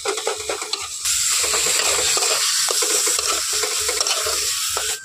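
A banana flower mixture cooks over low heat while being stirred, with steady frying sizzle and repeated scraping strokes of a spatula against the pan, close and fairly loud.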